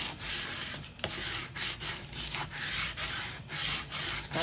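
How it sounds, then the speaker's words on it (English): Tape being scraped down firmly along the spine of a Tim Holtz folio journal gives a steady, close rubbing sound, with repeated back-and-forth strokes that have short dips between passes. "scrape that down real good"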